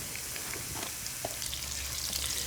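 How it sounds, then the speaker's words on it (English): Garlic, ginger and onions frying in olive oil on an induction stove give a steady, close sizzle with scattered crackles and soft pops, without talk. "I'm going to start off with our garlic and ginger because that's going to flavor the oil. I'm going to add my onions."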